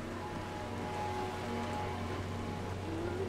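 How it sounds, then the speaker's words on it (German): Rain falls steadily in the zombie survival video game Dying Light, a soft, even hiss over a low constant hum, faint and unbroken throughout. "jetzt regnet es auch noch und es gewittert"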